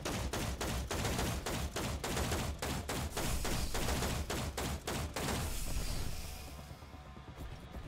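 A Junk Arquebus in the Roboquest video game fires a rapid string of loud, evenly spaced shots for about five seconds, then stops, leaving a fading tail and low game ambience.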